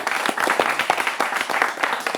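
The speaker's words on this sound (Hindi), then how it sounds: "एक बार फिर से ताली हो जाए।" A studio audience on an Indian television debate show applauds, a dense patter of overlapping claps at moderate volume, steady and brief with no speech on top.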